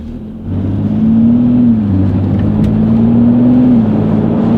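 A tuned BMW X3 35i with an intake and tune pulls away with a loud, close engine drone that rises and falls through a shift, heard from inside the cabin.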